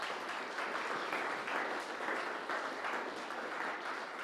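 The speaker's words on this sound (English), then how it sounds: "let's give a round of applause for those we've just recognized" A church congregation applauds volunteers, a dense, steady wash of many hands clapping at moderate distance, holding evenly without voices.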